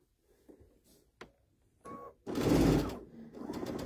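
Baby Lock Altair 2 sewing machine stitching a seam on fabric, a quick whirring run building after a few light clicks and taps, with a brief pause before it resumes, fairly close and clear.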